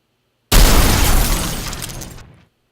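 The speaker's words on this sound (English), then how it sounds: "There is spider explosion." A video game spider explosion sound effect: a sudden loud blast bursts in with crackling, shattering debris that decays over about two seconds before cutting off.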